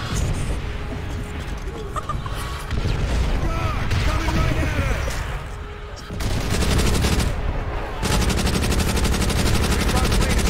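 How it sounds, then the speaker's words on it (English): Light machine gun fire in a war video game, long rapid bursts crackling over booming artillery and battlefield noise, loud and close, broken by brief pauses, with voices shouting underneath. "I got hit by an LMG."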